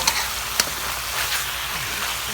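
Spicy eel stir-fries in a pan with kaffir lime leaves, sending up a loud, continuous sizzle with a few sharp clicks and scrapes from stirring near the start. No one speaks.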